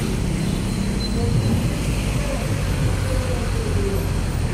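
Road traffic fills a Manila street with a dense, continuous rumble of vehicles and engines, steady and fairly loud with no clear individual passes.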